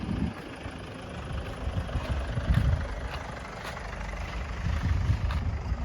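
A car engine idles with a low, steady rumble close by, swelling in a few modest bursts as it is revved.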